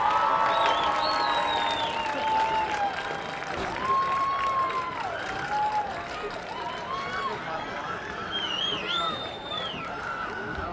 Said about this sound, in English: Please give one more round of applause for our HHS Marching Band